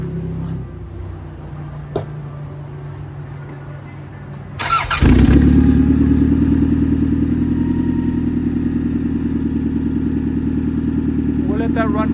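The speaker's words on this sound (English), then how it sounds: "Now we'll start the engine." A junkyard Ford Camry engine cranks and catches around five seconds in, then settles into a loud, steady idle that runs on alone; quieter shop noise comes before the start.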